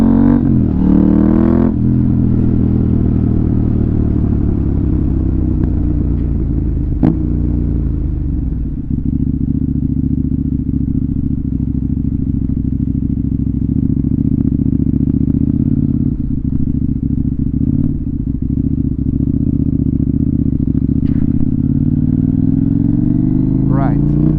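A KTM Duke 890R with an SC Project slip-on exhaust rumbles loud and close as it downshifts from fourth to third, a sustained throaty engine drone with brief dips and rises in pitch.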